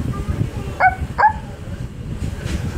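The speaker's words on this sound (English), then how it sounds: "That's a little cute dog." A small dog gives two quick, high-pitched yappy barks in close succession over a low background rumble, with no talk during the barks.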